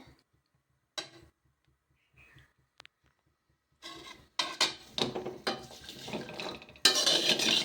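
Desi chickpeas roast in a pan over a gas flame: sparse clinks and scrapes of a utensil against the metal pan at first, then denser stirring, rattling and sizzling that grows louder toward the end.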